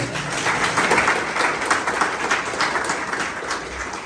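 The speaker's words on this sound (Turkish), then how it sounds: "Burayı alkışlayın ya Allah'ım." An audience at an iftar gathering claps, a dense, steady burst of applause with a few faint cheers in it. It keeps an even level for about four seconds.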